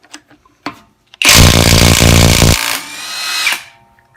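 A Kimo 20V cordless 1/2-inch impact wrench fires in one loud, continuous hammering burst of about two seconds, then whines down, close to the microphone with no talk.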